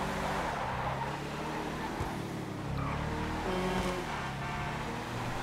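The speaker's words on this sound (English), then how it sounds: "Trying to do a brake boost." A Fathom FR36 car in GTA Online revs and strains through a brake boost, its engine droning steadily with rising and falling pitch and faint tire scrub, loud and close throughout.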